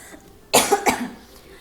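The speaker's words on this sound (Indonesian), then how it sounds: "Kalau ini batuk lagi bentar." A single sharp cough bursts out near the microphone, followed by a second softer cough a moment later, with quiet room tone around them.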